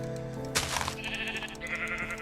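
Sheep in a video game give a short, loud, wavering bleat partway through, set over a steady background music bed, followed by softer tonal game sounds.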